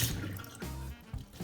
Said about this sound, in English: Wash your meat, people.